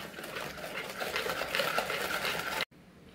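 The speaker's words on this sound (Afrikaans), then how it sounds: "En ons klits dit goed deur." Cream mixed with vanilla essence is whisked by hand in a bowl, a steady, fairly close rhythmic swishing and tapping that stops abruptly near the end.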